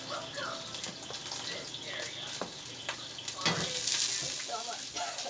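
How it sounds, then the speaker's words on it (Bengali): Potatoes frying in hot oil give a close, fluctuating sizzle with crackling bursts, and a voice speaks intermittently over the frying. "এটাতে আলু ভাজবো আলু ভাজবো আমি"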